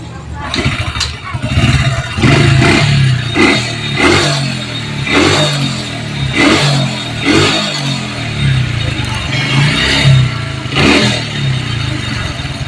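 A Honda Supra motorcycle engine, freshly fitted with a replacement spool, idles and blips its throttle in a series of regular revs, loud and close in a workshop.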